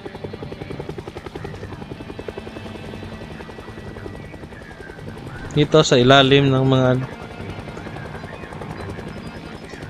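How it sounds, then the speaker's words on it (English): A steady helicopter rotor drone runs throughout beneath a person speaking, with a short louder tonal sound partway through, from the video game Project Zomboid. "helicopter, I hear you."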